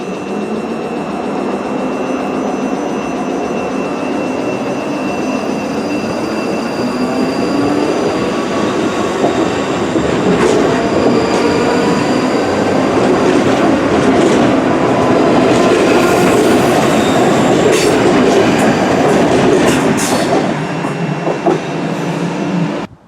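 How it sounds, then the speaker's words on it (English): ScotRail trains pull into Partick station at rush hour, a loud sustained rumble with rising clatter and some wheel squeal as carriages roll in close by. "there is trains arriving into Partick every second here"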